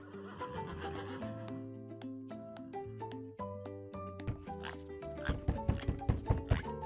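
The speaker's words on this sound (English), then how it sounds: "It's a horse." A horse lets out a loud, drawn-out whinny that breaks into quick, shuddering snorts toward the end, close and alone.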